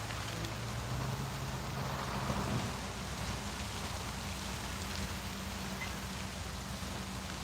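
Rain falling outdoors during a fishing outing, a steady broadband hiss of drops with a faint low rumble early on, continuous and fairly soft with no voices.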